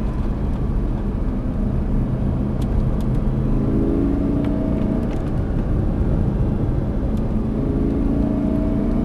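A car accelerates on a driving track, its engine rumbling loudly and continuously with rising pitch sweeps as it speeds up.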